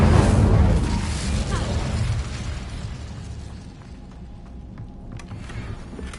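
An Incendio fire spell cast in Hogwarts Legacy bursts with a loud whooshing blast at the start, then decays into a fading roar with faint crackles trailing off.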